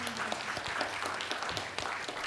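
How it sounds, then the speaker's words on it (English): Audience clapping at the close of a community evening forum, a brief patter of applause from a modest crowd with faint voices and room murmur mixed in. "Give them another round of applause."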